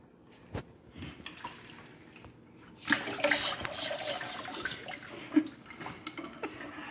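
Water pouring over the rim of an overflowing container in a kitchen, a splashing, gurgling rush that starts abruptly and keeps running with drips, moderately close.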